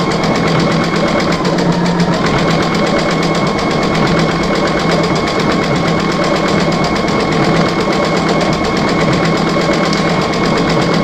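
Foot-pedal sewing machine running steadily, a fast, continuous mechanical whir and rattle held at close range for the whole stretch without pauses.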